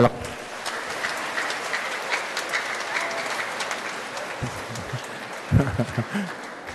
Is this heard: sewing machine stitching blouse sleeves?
no